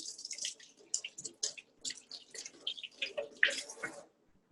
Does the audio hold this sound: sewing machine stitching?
no